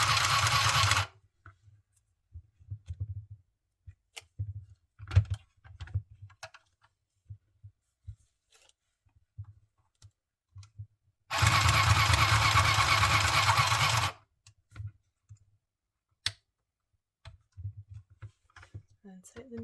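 A mini sewing machine stitches fabric in two loud, steady mechanical whirring bursts, one short and one lasting about three seconds. Quiet handling clicks and soft talk fill the gaps between them.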